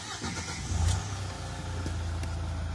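A 2020 Hyundai H-1 Elite 12-seat bus with a 2.5-litre diesel engine starts up close by: a short cranking burst that catches into a low, steady diesel idle with no talking.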